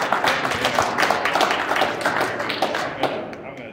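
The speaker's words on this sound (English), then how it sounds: "That's worth a round of applause." A small congregation gives a brief round of clapping during a church baptism service, the claps ragged and fairly close, with some voices mixed in.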